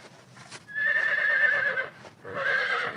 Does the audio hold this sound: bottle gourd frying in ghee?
no